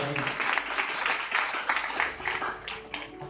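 A church congregation at a worship seminar claps together in dense, steady applause that fills the room for the whole stretch, with a voice faintly under it.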